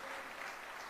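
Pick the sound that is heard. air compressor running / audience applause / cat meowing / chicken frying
audience applause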